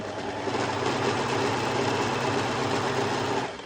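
Sewing machine stitching a lettuce edge on stretched fabric, a continuous fast mechanical whir running steadily at close range before easing off at the end, no talking.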